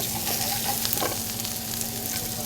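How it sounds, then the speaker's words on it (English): Onion sautéing in very hot olive oil in a pan, a steady close sizzle and crackle of frying that runs without pause under light stirring. "Going to saute this for about 20 seconds."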